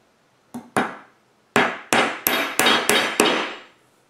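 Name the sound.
hammer tapping 3/4 inch nails into beehive frame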